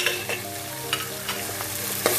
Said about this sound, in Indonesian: aduk sampai wangi